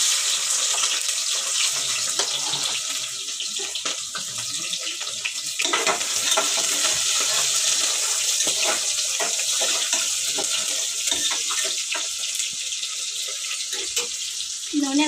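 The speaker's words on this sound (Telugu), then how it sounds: "నూనె వేడైంది, ఉల్లిగడ్డ వేసేసిన." Sliced onion sizzles in hot oil in a home kitchen pan, a close, steady hiss of frying that runs without a break.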